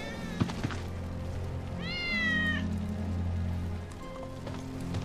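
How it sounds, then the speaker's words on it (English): Wedge's cat in Final Fantasy VII Remake meows a few times, clear mid-range cries standing out over a low ambient in-game hum and soft background patter. "That's Wedge's cat."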